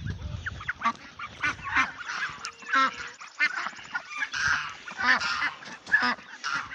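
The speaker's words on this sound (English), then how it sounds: "stupid geese are talking to me this morning" Geese honk repeatedly in a backyard where ducks are also kept, with loud, close calls rising and falling across the whole stretch and no talking.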